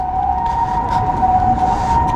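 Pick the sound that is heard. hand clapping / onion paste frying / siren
siren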